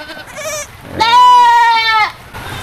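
Goats bleat inside a house where they have been sheltered to keep from falling sick, including a mother with two kids; one loud, sustained wavering bleat sits close in the middle, with fainter bleats before and after.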